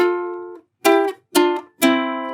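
Four bright strummed chords on a ukulele, each ringing briefly then cut off, with short gaps between strums, close and clear.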